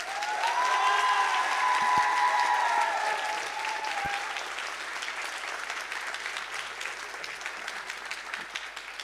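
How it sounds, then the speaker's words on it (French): An audience at a 2023 closing ceremony breaks into sustained applause, loud and dense at first and then slowly thinning. A few voices sound in the hall under the clapping. "Est-ce que vous pouvez faire des applaudissements pour eux,"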